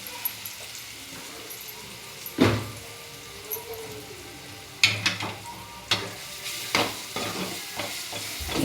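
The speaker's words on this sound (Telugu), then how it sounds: "కారం పొడి వేసుకొని బాగా తిప్పుకోవాలి" Moong dal fry sizzling in a pan with chili powder added, stirred with scattered scraping strokes of a spoon over a low steady sizzle, close and without voices.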